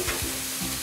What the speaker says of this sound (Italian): Poi aggiungiamo il vino per sfumare, come si dice.